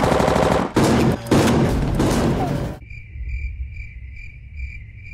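Gunfire from The Walking Dead, a burst of loud rapid shots with brief gaps over about three seconds, then cut off abruptly and replaced by a steady, pulsing insect-like chirping tone.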